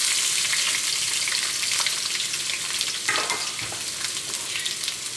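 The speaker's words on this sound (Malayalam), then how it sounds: "നമ്മുടെ എണ്ണ നന്നായിട്ട് ചൂടായിട്ട് ഇതിലേക്ക് നമുക്ക് ആദ്യം തന്നെ നമുക്ക് സവാള ഇടാം." Sliced onions sizzling and crackling in hot oil in a pan for chicken biryani, a loud close frying hiss with a brief stir partway through.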